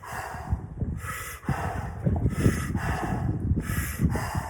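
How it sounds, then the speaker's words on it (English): Big, deep breaths taken right before getting into a cold plunge: a run of loud, close inhales and forceful exhales in a steady rhythm, with a few snorty, gasping bursts and no talking. "A couple of big breaths now."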